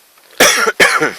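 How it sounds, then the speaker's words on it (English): Two loud, close coughs, one right after the other, harsh and raspy. "Apologies for the coughing."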